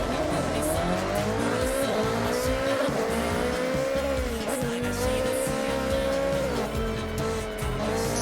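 A Nissan Sylvia S15 races in Forza Horizon, its engine revving continuously and loudly with rising and falling gear pulls, tire squeal and skidding throughout, close and dense with no talk.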